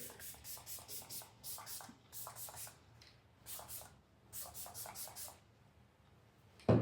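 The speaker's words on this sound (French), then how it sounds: "Je passe au spray fixateur. C'est donc le Prep Set Blur de chez Iconic London." Iconic London Prep Set Blur setting spray pumped in a series of short hissing bursts, in rhythmic groups of two to four sprays with brief pauses between, close to the microphone, ending with a louder thump.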